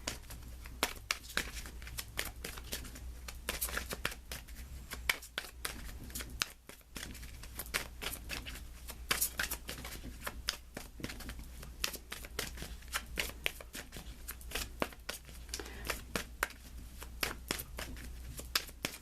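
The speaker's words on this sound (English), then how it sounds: "Let me pull you an additional guidance card." Tarot cards shuffled by hand in steady, crisp riffling bursts that run almost continuously, close and fairly quiet, with a brief pause near the middle and no talking.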